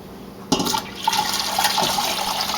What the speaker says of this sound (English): So now I'm going to pour my filtered water in.